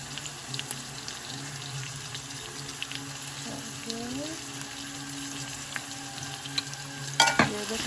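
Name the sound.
potatoes frying in a pan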